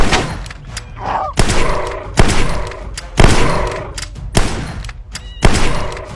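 Gunfire in the VR game Dinosaur Island: a series of loud, punchy shots spaced about a second apart, each with a booming thud and short decay.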